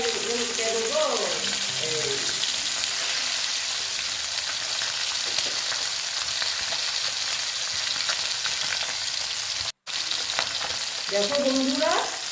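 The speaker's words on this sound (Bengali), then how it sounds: "আমার মনে হচ্ছে মাছ ভাজাটা হয়ে গেছে" Loud, steady sizzling of pabda fish frying in hot oil, a continuous crackling hiss, with a brief voice at the start and end.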